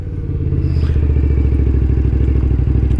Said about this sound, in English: Ride number 2, TL1000R.